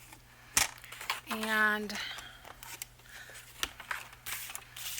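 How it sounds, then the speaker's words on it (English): Scissors snip through a sheet of paper being cut in half for a craft lapbook, with a few close crisp cuts and rustles between quiet handling noises. "So let me cut this in half."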